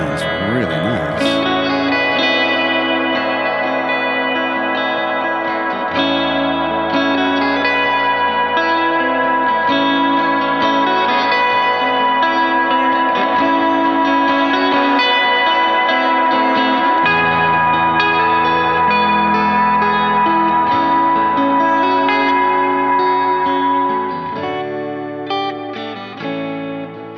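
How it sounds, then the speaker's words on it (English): Electric guitar played through an effects pedal, with lush echo and reverb washing around sustained notes and self-oscillating runaway feedback, continuous for the whole stretch, no talking. "I really, really like the sound of this pedal."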